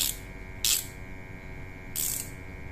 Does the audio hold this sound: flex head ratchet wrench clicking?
yes